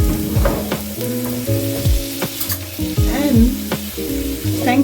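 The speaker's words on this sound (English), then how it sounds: "I'm going to turn on my flame on low because I don't want it to burn. And I'm just going to saute." Zucchini noodles sautéing in a pan on a low flame, a steady close sizzle with scattered clinks and scraping stir strokes throughout, and no talk.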